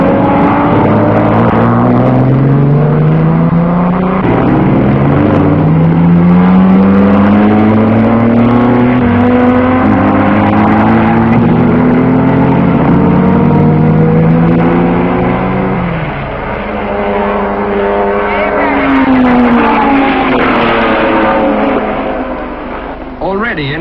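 2-liter sports racing cars at the 1955 Le Mans 24 Hours sweep through a corner, engines rising and falling in pitch as several pass in succession, loud and continuous with a voice talking over them.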